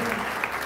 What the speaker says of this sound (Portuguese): Vamos uma salva de palmas para ela.